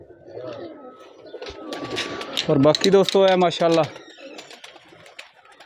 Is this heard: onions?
no